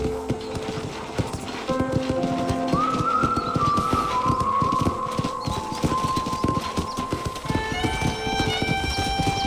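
Horses at a ranch corral in Red Dead Redemption, with steady clip-clop hoofbeats throughout and a whinny partway through, along with whistled tones and ambient ranch noise.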